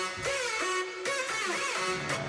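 A bright, dry synth lead made in FL Studio, without reverb, plays a gliding melody with sustained notes, clear and upfront, no lingering echo between phrases.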